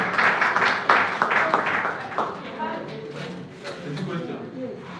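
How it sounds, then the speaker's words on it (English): An audience claps briefly at a live talk session, a quick scatter of claps in the first couple of seconds that fades as people begin talking. "clap for her."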